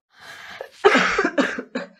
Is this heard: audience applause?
no